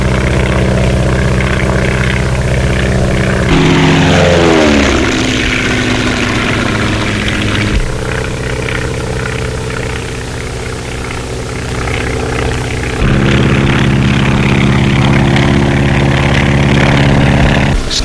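A 1931 skywriting stunt plane's engine drones loud and steady throughout, its pitch rising and dipping as the aircraft turns and climbs, with no voices heard.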